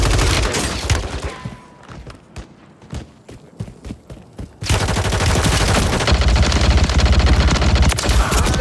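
Gunfire in the video game Warzone: scattered single shots and short bursts crack out over the first few seconds, then a dense, continuous barrage of rapid automatic fire takes over, loud and close, with no talking.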